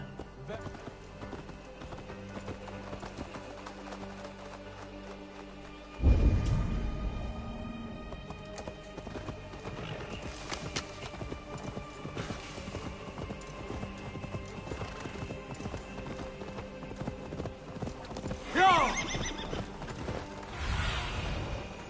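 A horse gallops in Assassin's Creed Valhalla, quick rhythmic hoof clip-clops running throughout with a whinny and a whoosh partway, beneath game music and ambient effects.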